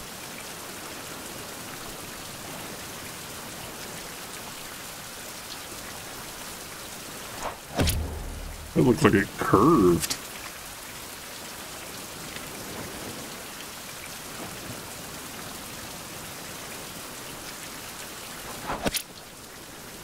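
Steady rain falling in the survival video game Survival: Fountain of Youth, a constant hiss of drops on surfaces, with someone speaking briefly over it.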